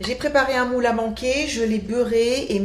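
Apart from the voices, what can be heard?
No distinct noise like a dog, phone or traffic.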